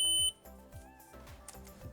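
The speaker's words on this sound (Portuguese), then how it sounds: "ele precisa dar o bip de continuidade quando utilizamos as pontas do multímetro" A piercing electronic multimeter continuity-test beep sounds briefly at the start, followed by fainter tones and clicks.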